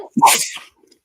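A single sharp sneeze, close and loud, with a brief inhaled lead-in and a quick burst that fades within half a second.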